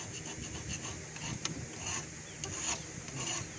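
Scraping inside an animal enclosure, a dry rasping rub repeated in short strokes at close range, with no voices.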